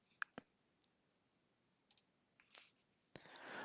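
Computer mouse clicks while working in Excel 2019, a few sharp, close clicks spread apart, followed by a brief rustling burst at the end.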